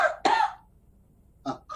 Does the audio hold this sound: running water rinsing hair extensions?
no